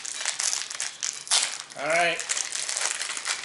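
A Toy Story 4 Disney surprise mini figure blind bag is opened close up, its foil wrapper crinkling and crumpling in bursts while a voice speaks briefly partway through.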